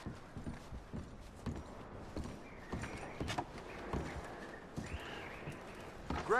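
Hooves clip-clop softly and unevenly as horses shift and move about in Red Dead Redemption 2, with faint creaks and rustling of gear as packs are loaded, fairly quiet and without talk.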